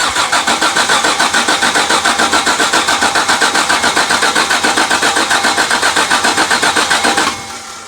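A 1985 Jaguar XJ6 engine cranks steadily on the starter with a fast, even rhythmic chug that carries on for about seven seconds, loud and close, then drops away abruptly without catching.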